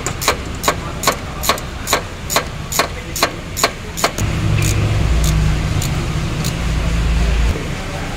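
A Toyota Avanza engine bay during fan belt adjustment: about a dozen evenly spaced sharp metallic taps ring out first, then the engine runs with a steady low rumble that continues to the end.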